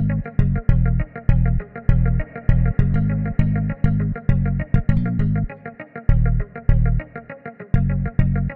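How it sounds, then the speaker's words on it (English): An effected electric guitar plays a choppy, rhythmic riff of repeated chords, compressed and slightly spacious, loud and close with no voices. "a bit of compression and some reverb that really gives this sound some more dimension"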